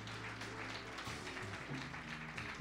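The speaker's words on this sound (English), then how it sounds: "it's one thing to clap your hands" A church congregation claps hands in praise during a worship service, steady applause blended with sustained organ or keyboard chords.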